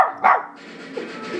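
A dog begging for a cookie gives one sharp, close bark, then follows it with softer whimpering yips, all over a brief and fairly loud span.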